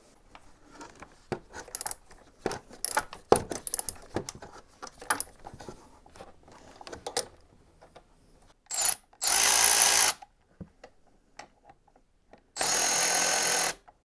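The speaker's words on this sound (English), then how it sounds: "it's time to loosen the lower fork clamp using two Torx T40 bolts, and then slide the fork down out of the clamps" Hand tools work the Torx T40 lower fork clamp bolts on a BMW F850GS motorcycle: scattered clicks and metallic ratcheting, then two sustained bursts of a loud power driver whirring up close.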